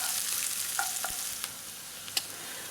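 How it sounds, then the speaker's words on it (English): Onions frying in hot oil for a dal tempering, a steady soft sizzle with a few light stirring clicks and scrapes, close and alone. "The oil gets flavoured from the essence of what you're frying in the oil."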